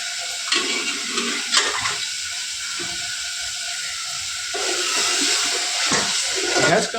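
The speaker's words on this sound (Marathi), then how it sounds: "त्याच्यानंतर पाणी ओतायचं ते" Water poured from a vessel into a pot of browned mutton for a Satara-style mutton curry, a loud splashing, hissing gush that surges in two bursts over several seconds, with no voices.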